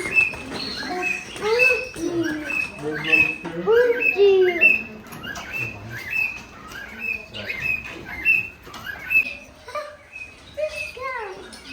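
Bright, rapid bird chirps and tweets repeat throughout, fairly close, at a countryside farmhouse in Ireland, with a voice and other talk mixed in.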